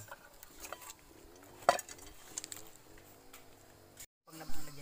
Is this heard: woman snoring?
no